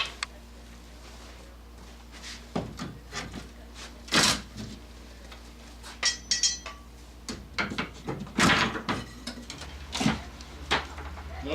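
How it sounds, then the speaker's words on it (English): Irregular knocks, creaks and sharp clatters as an old wooden door frame is pried and pulled loose, scattered bursts with short pauses between. "Tearing the old frame out."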